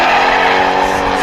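A 1UZ V8-powered Lexus IS200 drift car roars loudly and steadily at a drift championship qualifying run, engine note sustained with tire noise over the brief moment.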